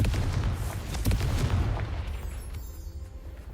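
The Confringo fire spell explodes in the video game Hogwarts Legacy, a burst of booming blasts and crackling debris that dies away into a quieter tail with a high ringing tone.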